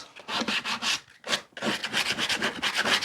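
Pallet wood on a bird box is sanded smooth by hand, close rhythmic rasping strokes in quick repeated passes with a brief pause near the middle and no voices.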